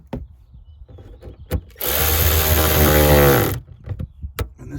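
A power driver whirs in one sustained burst of under two seconds, snugging screws on a fuel tank pressure sensor plate of a Pontiac Bonneville, with light clicks and handling noises before and after.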